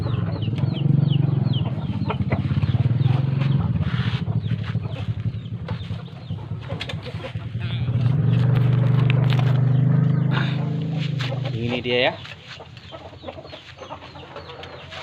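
Roosters kept in cages, one in a small cage and one in a big cage, clucking and crowing close by throughout, with a brief voice speaking near the end.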